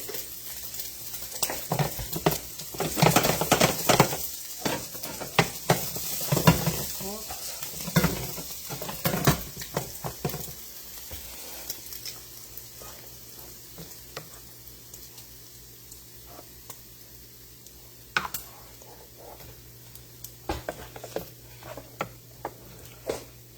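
Sweet Italian sausages sizzle in a frying pan while being stirred, with scraping and clattering utensil strokes over a steady crackle, busier at first then settling into quieter frying with occasional clinks.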